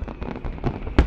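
Fireworks crackling and popping during Qatar National Day celebrations, a dense run of soft bursts topped by one sharp, loud bang near the end.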